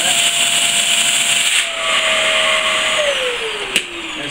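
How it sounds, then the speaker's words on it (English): A vacuum sealer pumps air out of a storage bag for die-cast toy models, a steady close whirring hiss that holds its pitch and then drops as the bag tightens, ending with a brief click. "Vacuum sealed. Really tightly vacuum sealed."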